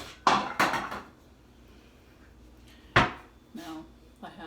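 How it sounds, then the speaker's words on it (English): Pans are set down on a kitchen stove, giving a few sharp metallic clunks and knocks spread across a few seconds, close by, with a person talking between them. "So I'm going to get both of my pans started here."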